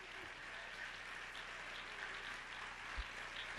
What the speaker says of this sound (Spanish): Démosle un aplauso bien fuerte